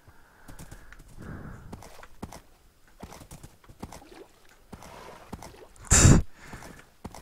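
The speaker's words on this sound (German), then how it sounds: "Hüpf, Pferdchen, hüpf." Horse hooves clip-clopping in Minecraft, a series of close, hollow clops at an uneven pace, with a sharp louder burst near the end and no speech.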